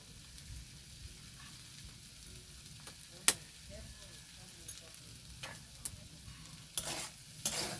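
Food being stirred and mixed in a frying pan with potato and salt added, soft scraping and faint sizzle at low level, with a few sharp clinks of the utensil against the pan.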